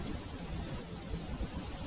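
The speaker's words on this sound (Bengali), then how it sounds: "বাইরে তো ঝড় বৃষ্টি কমলো না" Steady broadband rain hiss from a cartoon storm, falling outside continuously and fairly loud, with low rumbling texture and no voices.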